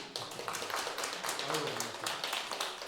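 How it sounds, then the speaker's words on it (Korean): Applause from a congregation during a Sunday church service in Korea: steady, dense clapping runs throughout, mixed with voices talking over it. "박수"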